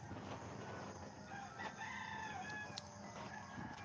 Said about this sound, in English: And there goes the roosters.